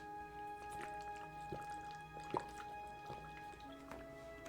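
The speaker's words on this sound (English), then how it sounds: "Listen to these hydration noises." Quiet, close sounds of drinking water from a water bottle, soft gulps and wet little clicks spread over a few seconds with no talking.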